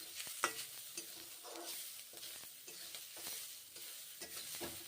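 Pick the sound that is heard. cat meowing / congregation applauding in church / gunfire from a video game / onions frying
onions frying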